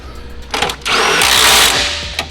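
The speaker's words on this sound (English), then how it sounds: "I love power tools." A power tool whirs loudly for about a second with a high whine, between short bursts of mechanical clatter.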